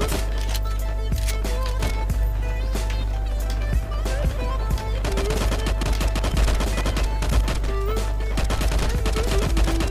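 FAMAS rifle fire in LifeAfter, steady rattling bursts of shots over continuous game music, loud and near throughout with a dense run of rapid cracks in the second half.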